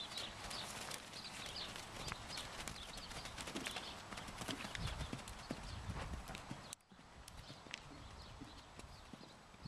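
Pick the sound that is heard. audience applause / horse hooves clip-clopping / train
horse hooves clip-clopping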